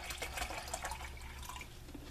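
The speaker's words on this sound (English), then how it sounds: "so I'll pour some water in that." Water poured into an old coffee press at an outdoor bushcraft setup, a steady close splashing trickle lasting about two seconds with no talk.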